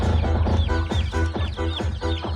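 A pair of live chickens clucking close by, a rapid series of loud, repeated squawking clucks in uneven bursts, with no speech.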